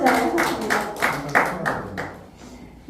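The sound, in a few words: audience clapping after a poem reading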